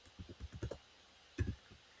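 Fingers type on a computer keyboard in short, quiet bursts of clicks, with a brief pause before a final flurry of keystrokes. No one speaks.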